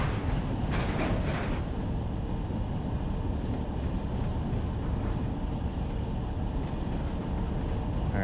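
A freight train in the Run 8 Train Simulator game rumbles steadily along the tracks, a dense continuous roar with faint clanking, heard at an even, moderate distance without any talking.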